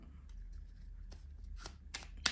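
Oracle cards shuffled by hand during a tarot-style reading, a run of soft papery riffles and flicks close by, ending in a sharper snap, with no talking.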